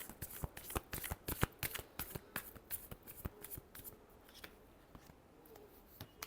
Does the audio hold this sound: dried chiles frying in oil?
no